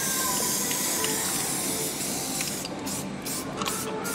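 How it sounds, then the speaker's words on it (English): An aerosol can of sealant sprays in a long continuous hiss that holds steady for several seconds and then breaks into short sputtering bursts near the end, with no talking. "You spray the whole can."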